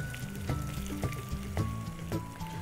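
Onions sizzle in hot oil already infused with garlic and ginger for a Sindhi-style mutton curry, a steady close frying crackle with periodic louder stirring scrapes and no talking.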